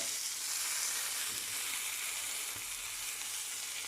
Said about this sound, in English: we fried this in margarine/butter